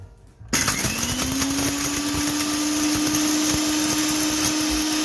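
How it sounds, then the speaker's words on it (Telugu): Electric mixer grinder grinding spices for Hyderabadi bagara rice, starting abruptly after a brief quiet and then holding a loud, steady motor whine. "మిక్సీ కొట్టుకోవాలండి ఇవన్నీ"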